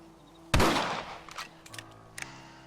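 A single rifle shot in Red Dead Redemption cracks loudly and close, then decays into a rolling echo with a few faint trailing thumps.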